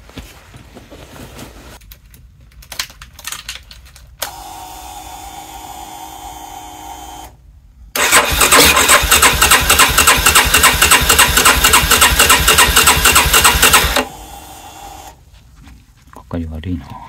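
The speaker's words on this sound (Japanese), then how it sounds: "エンジンかけてみよう。" A Yamaha Tricker motorcycle, just fitted with a new spark plug, is started up. Short cranking bursts and hesitant attempts come first, then a loud, close engine note runs steadily for several seconds before settling lower.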